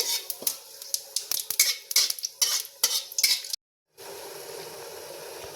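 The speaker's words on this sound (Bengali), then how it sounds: "এবার আমি এটাকে নেড়ে চেড়ে ভেজে নেবো ফোড়নটাকে" A spatula scrapes and stirs dried red chili, bay leaf and whole cumin frying in hot oil in a pan for cauliflower masala, with rapid rhythmic clatter over steady sizzling, a brief silent gap, then sizzling alone.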